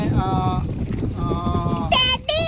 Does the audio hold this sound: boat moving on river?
yes